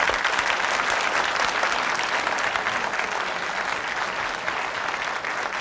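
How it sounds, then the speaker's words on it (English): Studio audience applause on a television mystery game show fills the clip with dense, steady clapping at an even loudness from start to end, with no talk over it. "A round of applause, a little whistle."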